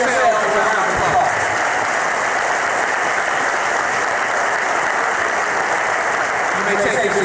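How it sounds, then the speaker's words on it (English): A large crowd at an inauguration speech applauds loudly and steadily, a dense, sustained wash of clapping with cheering voices mixed in throughout. "Please give yourselves a round of applause."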